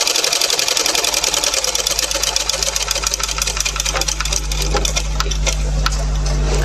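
A sewing machine stitching fabric in a tailoring setting runs loud and steady throughout, its needle hammering at a fast, even rhythm with a constant motor hum.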